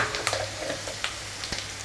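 Ginger garlic paste sizzles in hot oil with chopped green chili in a pan for a chicken gravy, a steady close frying hiss with a few sharp crackles and light stirring, no voices.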